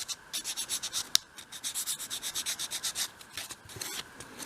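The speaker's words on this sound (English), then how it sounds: "So just sort of sweep the sandpaper around." Sandpaper rubs a soft wood spindle for a 1/12th scale shop project in quick, even back-and-forth strokes, a close, steady rhythmic rasp with no voices.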